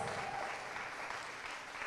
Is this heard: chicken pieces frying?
no